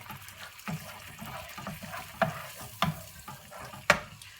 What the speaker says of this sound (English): So pop them in the pan and give them a bit of a stir.